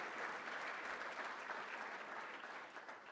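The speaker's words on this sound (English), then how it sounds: "Let's give them a round of applause also." An audience at a State of the City address applauds the water main crews, steady, even clapping from a large crowd that holds for about three seconds and starts to thin at the end.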